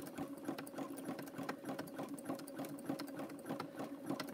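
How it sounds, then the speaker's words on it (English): A sewing machine stitching macrame rope cord for a handbag runs at a steady fast pace, its needle clatter forming an even rhythmic rattle over a motor hum, close and moderately loud with no talking. "I see it twisting over my sewing machine."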